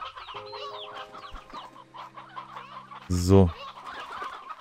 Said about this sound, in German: Nehmen wir ein paar Steinhühner mit.